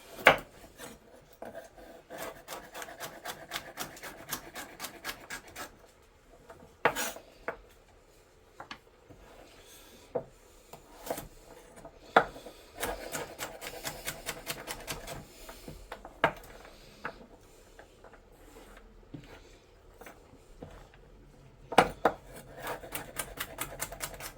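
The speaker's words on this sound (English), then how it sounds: "Chop that in half." A kitchen knife chops carrots for a Sika venison stew, landing crisp, sharp cuts against a board in irregular clusters and quick runs. The close, fairly loud strikes are separated by brief quieter pauses, and no one talks.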